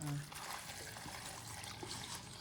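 Water trickles and pours onto freshly cut brinjal, a faint, steady splashing under nearby conversation.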